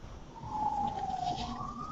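A single emergency siren tone rises and wavers at moderate distance for a couple of seconds, with traffic rumble underneath and no speech.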